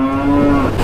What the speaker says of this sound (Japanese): わーすげえ牛がいっぱいだ。